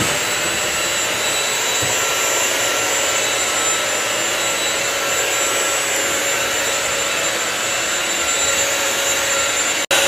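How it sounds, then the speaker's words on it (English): A loud, steady whooshing whine of a Bissell CrossWave wet-dry vacuum mop running continuously up close on a floor, cutting off abruptly near the end. "I'm now going to vacuum and mop it up."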